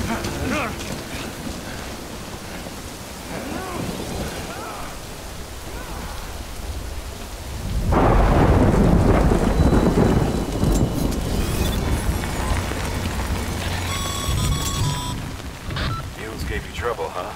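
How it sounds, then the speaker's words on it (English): Rain in the video game Death Stranding, a steady broadband hiss that swells sharply into a heavier, louder downpour partway through, with low rumbling and some faint electronic tones layered on top. "Good thing it was raining."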